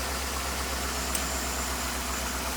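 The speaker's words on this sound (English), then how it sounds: "As you can hear, the engine's now running." A steady, low engine idle with a constant broadband hum, close by and unchanging throughout, with no voices.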